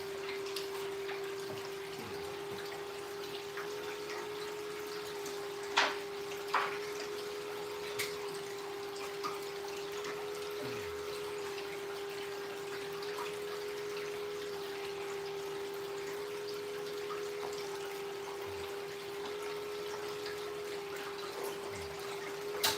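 A water pump runs at a gold prospecting site, a faint, steady hum with a constant tone and occasional soft drips and splashes of water, no voices.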